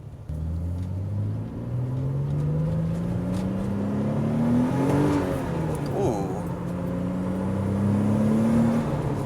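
A modified 1993 Nissan 300ZX twin turbo with upgraded turbos accelerates through the gears, its engine note climbing steadily, dropping at a shift, then rising again, loud and close from inside the car.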